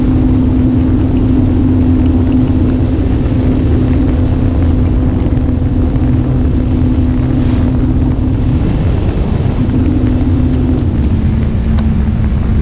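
A radio-controlled Sopwith Camel model biplane flies overhead, its engine a steady droning whine that shifts pitch near the end, mixed with heavy wind buffeting on the microphone.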